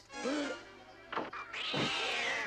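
Cartoon cats meowing in the animated film The Aristocats, several drawn-out, wavering cries at close range, one early and a long loud yowl at the end, with a brief thump in between.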